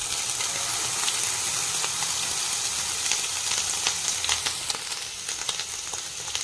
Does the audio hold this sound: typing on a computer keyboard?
no